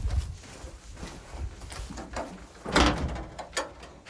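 A chicken room door in a barn is pulled shut and held with a small wire, giving a few close wooden knocks and scrapes, with a louder bang near the end and soft rustling in between.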